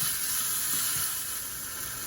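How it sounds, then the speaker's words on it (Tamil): Vegetables for a vegetable sothi sauté lightly in a pan, giving a steady, moderately quiet sizzle and hiss that continues unbroken, with no one talking. "இப்போ எல்லாத்தையும் போட்டு லைட்டாக வதங்க விடுவோம்."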